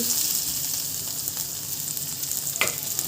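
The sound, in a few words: finely chopped garlic sizzling in hot oil in a pan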